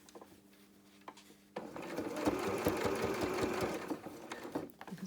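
A sewing machine runs steadily for several seconds as it stitches around a felt flower petal, a close mechanical whir with rapid needle clatter that starts suddenly after a few light taps and then slows near the end.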